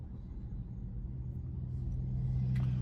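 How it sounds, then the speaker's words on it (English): Road traffic rolls past on Tharp Street, a busy main road in Tallahassee, heard from inside a Tesla as a low steady rumble that grows a little louder toward the end. "there's a fair amount of traffic on this street"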